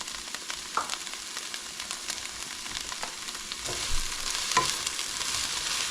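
Chopped medium onion sizzling and frying in a pan while being stirred for unstuffed peppers, a steady soft crackle with occasional scraping clicks and a slightly louder burst near the end.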